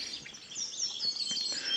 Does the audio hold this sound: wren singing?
yes